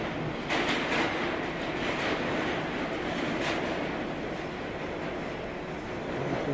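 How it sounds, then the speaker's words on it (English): F subway train arriving at 21st Street–Queensbridge in the train simulator OpenBVE, a steady loud rumble and roar of rolling cars with faint rhythmic clatter, no voices. "F train arriving at 21st and Queensbridge."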